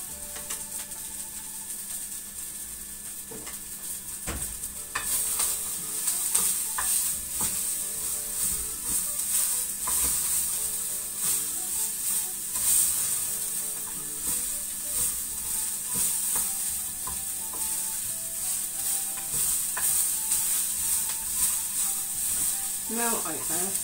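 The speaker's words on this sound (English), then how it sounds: "I stir the ingredients together" Ingredients for an Egyptian stuffed pigeon filling stirred in a frying pan, a steady sizzle rising sharply after a few seconds and holding loud with scraping stirs throughout; a faint voice may be present underneath.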